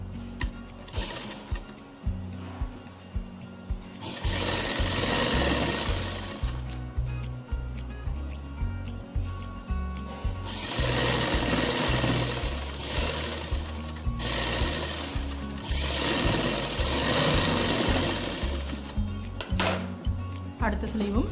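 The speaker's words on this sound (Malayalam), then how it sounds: "അടുത്ത സ്ലീവും ഇതുപോലെ സ്റ്റിച്ച് കൊടുക്കണം." A sewing machine stitches a kurti sleeve in close, loud bursts of rapid mechanical whirring, stopping and starting several times, with clinking of the machine between runs and a voice speaking now and then.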